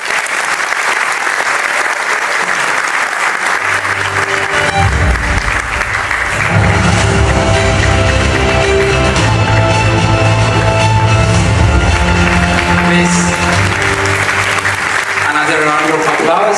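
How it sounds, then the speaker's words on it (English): Audience applause at the Bikila Award 2025 ceremony fills the opening seconds, then continues underneath music with tonal, sustained notes and a voice speaking over the room. "Another round of applause."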